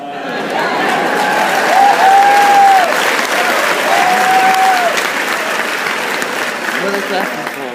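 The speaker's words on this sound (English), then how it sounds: "What are they clapping for?" A crowd claps and cheers at a broadcast event for North Carolina's Stephen Davis, loud sustained applause with a broadcast tone and voices underneath.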